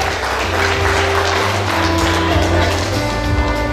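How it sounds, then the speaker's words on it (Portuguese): Audience applause at an anniversary award ceremony honoring a club representative, steady dense clapping filling the room with some low hum underneath and a voice faintly present. "E também para o aplauso de todos."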